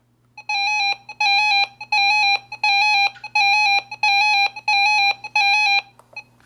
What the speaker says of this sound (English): Yes, that's the siren test.